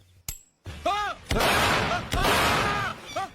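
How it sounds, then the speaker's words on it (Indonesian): Sharp gunshots in a film fight scene: two loud blasts about a second apart, each followed by a sustained roar and sweeping tones of dramatic music. "Eswara menembak Singamutu hingga tewas"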